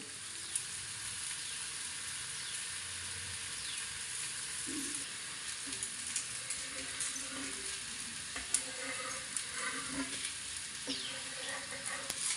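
Masala dosa cooking in oil on a pan gives a soft, steady sizzle and hiss, with a few light scrapes and taps from stirring; no voices.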